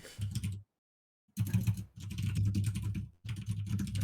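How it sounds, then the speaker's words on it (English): Loud, rapid clacking on a computer keyboard comes in close bursts, stopping for about a second before resuming in dense, continuous runs. "Wow, that typing's loud, Harmu."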